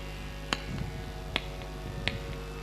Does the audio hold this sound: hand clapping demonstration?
yes